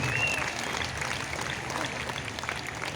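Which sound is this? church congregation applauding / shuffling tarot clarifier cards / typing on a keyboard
church congregation applauding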